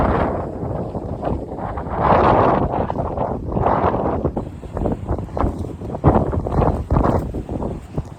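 Strong sea wind buffets the microphone at Diu Fort in Gujarat, producing loud, rough rumbling gusts that swell and fade in uneven bursts, with no talk over it.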